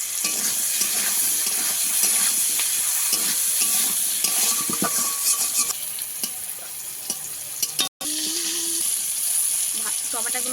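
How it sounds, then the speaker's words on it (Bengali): Raw green tomatoes fry with a little salt and turmeric in a pan, giving a steady close sizzle with scraping stirs. A brief dropout comes near the end, then a voice speaks over the frying. "টমেটোগুলোকে ভালো করে ভেজে নিতে হবে"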